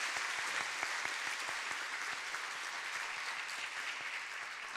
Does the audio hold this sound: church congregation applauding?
yes